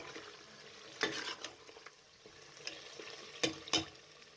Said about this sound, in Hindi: अब आपने अच्छे तरीके से इसको भून लेना है कि ऑयल ऊपर आ जाए।